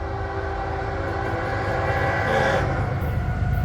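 Train 107 rolls past in Saint Augustine, its horn sounding over a loud, continuous rumble of wheels and cars that swells toward the end, with no talking.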